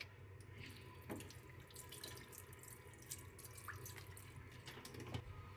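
Tap water runs steadily into a kitchen sink while fish is prepared for steaming with kelp, ginger, scallion and sake, a continuous close splashing stream with faint drips and no talking.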